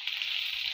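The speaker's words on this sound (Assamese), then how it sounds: "এইফালে পিঁয়াজ ভাজি আছোঁ।" Onions fry in a pan for a meat curry, giving a brief, even sizzling hiss with no other sounds over it.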